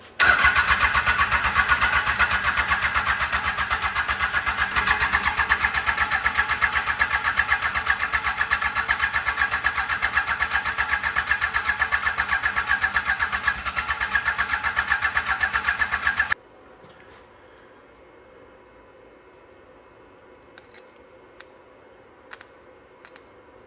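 A Mitsubishi L3E three-cylinder diesel engine is cranked without glow plugs. A loud, rhythmic starter grind runs for about sixteen seconds and then cuts off abruptly, leaving near silence with a few faint clicks.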